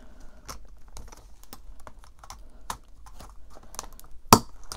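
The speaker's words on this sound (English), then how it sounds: "flip through of the envelopes" Paper cash envelopes for budgeting are flipped through by hand in a quiet room, giving a series of soft, irregular papery taps and riffles, ending in one louder crisp flick.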